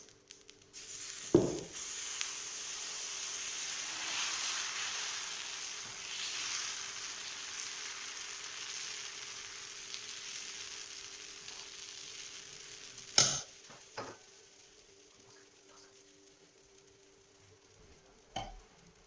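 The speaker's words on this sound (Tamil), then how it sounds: "இப்போ தோசை ஊற்றணும்" Dosa batter for a mushroom masala dosa hits a hot griddle and sizzles in a steady, bright hiss that slowly fades, with a few sharp clanks of utensils on the pan.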